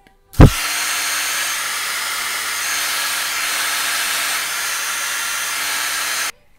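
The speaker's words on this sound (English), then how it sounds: "I'm going to apply a little bit of heat with my hairdryer" A handheld hairdryer blows hot air onto hair in a hair-styling routine, switching on with a brief click then holding a steady, loud whooshing roar for about six seconds before cutting off.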